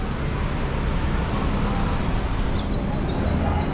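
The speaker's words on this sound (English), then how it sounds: "Got some birds as well, like those ones right there." Birds call in short, repeated chirping bursts above a steady wash of street noise at a small venue along Estrada do Repouso in Macau, with faint voices in the background.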